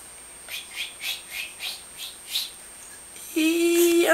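A voice mimics a canary with a run of seven quick, high chirping notes in a steady rhythm, then a brief squeaky warble, close and fairly quiet.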